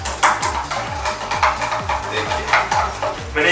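A spoon stirs a solution in a container for an elephant toothpaste experiment, giving a steady run of scraping, clinking strokes in a regular rhythm, close and fairly loud, with no talk.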